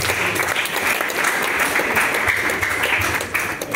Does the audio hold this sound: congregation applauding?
yes